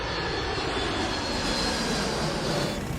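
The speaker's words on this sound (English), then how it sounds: "everybody put their hands on the throttles and pushed the throttles up to full blast" Airliner jet engines spool up at full throttle, a dense, steady roar that fills the whole clip without letting up, with no speech.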